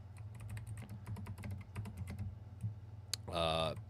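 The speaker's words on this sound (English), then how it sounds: "I'm typing this in the chat." Rapid, irregular clicking of computer keyboard keys being typed on, fairly close, running for a few seconds over a low hum, then giving way to a brief burst of a louder, tonal sound at the end.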